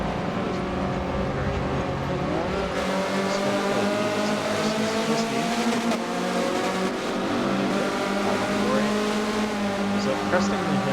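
Mazda Miata spec race cars in a sim racing game, several engines droning and revving together at steady loud level with shifting pitch, continuous throughout with faint tire noise.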